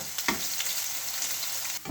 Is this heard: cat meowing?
no